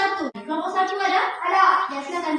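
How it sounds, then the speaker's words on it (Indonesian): Children in a classroom clap in a rhythmic burst for a student group, the claps mixed with loud, close, chanting young voices. "Oke, tepukan untuk kelompok."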